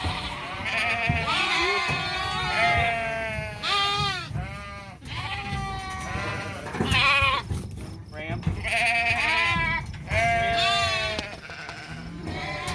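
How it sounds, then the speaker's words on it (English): Sheep bleating repeatedly while being sorted and grabbed on a farm on sorting day, many overlapping calls from ewes and lambs, close and loud, with people talking throughout. "You got two young guys at the same time grabbing sheep"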